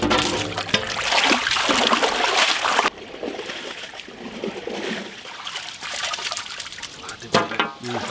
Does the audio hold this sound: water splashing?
yes